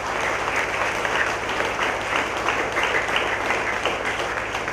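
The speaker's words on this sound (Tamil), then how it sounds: "பங்கு மக்கள் அனைவரும் இணைந்து கரகோஷம் எழுப்பி அவரை பாராட்டுவோம்" Church congregation applauding during a feast day Mass at St. Antony's Church, a sustained, fairly loud wash of many hands clapping with a steady low hum beneath.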